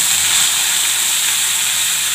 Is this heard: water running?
no